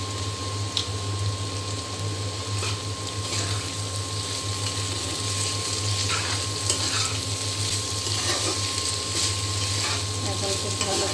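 Potatoes fry in a pan with turmeric and salt while being stirred, a steady close sizzle running throughout with a constant hum beneath and occasional scraping strokes.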